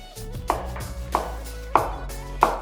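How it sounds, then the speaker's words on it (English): A very sharp small kitchen knife cuts through an onion on a board, four crisp chops landing at a slow, even pace, close and distinct, with no one speaking. "Okay, so I'm going to cut an onion."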